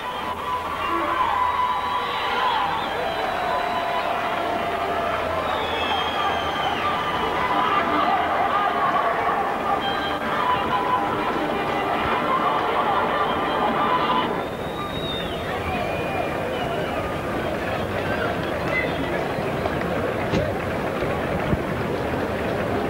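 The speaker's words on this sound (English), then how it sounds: "the crowd at the top end of the field and all up this side still applauding" A rugby league crowd at a Keighley ground applauds a try, sustained distant clapping and murmur that continues steadily beneath a commentator's voice, easing slightly partway through.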